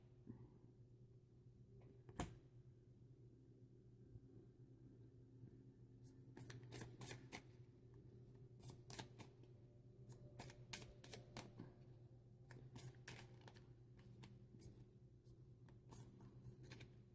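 Playing cards are shuffled close by in quick, crisp riffles and taps, with rapid bursts of flicking over a low background hum.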